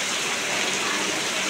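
Heavy rain pours down in the Konkan countryside, a dense, steady hiss of water drumming on surfaces, loud and unbroken from start to finish.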